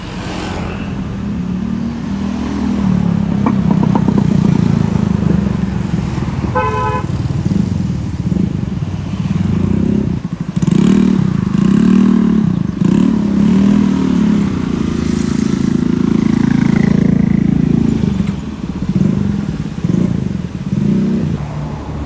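Cars and motorcycles crawl toward a traffic jam on the Lembah Anai road in West Sumatra after a flood cut it. Engines rumble loud and close throughout, with a short horn toot early on.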